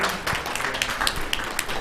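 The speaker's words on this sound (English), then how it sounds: "A round of applause for yourselves once again." Audience applause at a job fair entrepreneurship segment in Ghana, a steady mid-level patter of many hands clapping throughout with scattered sharper individual claps.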